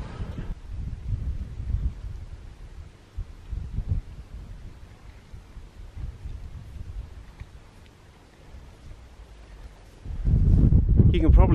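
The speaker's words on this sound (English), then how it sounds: "You can probably hear the wind." Wind gusting across the exposed hillside ruins of Hardknott Roman Fort in Cumbria in late October, a low, steady rumble buffeting the microphone that swells into a loud blast near the end.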